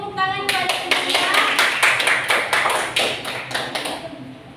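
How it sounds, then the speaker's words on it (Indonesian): Schoolchildren in a classroom science lesson clap for their teacher, a burst of about a dozen evenly spaced group claps in a steady rhythm, close and fairly loud. "Baiklah, kasih tepuk tangan kepada ibunya."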